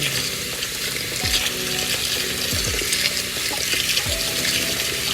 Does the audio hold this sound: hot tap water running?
yes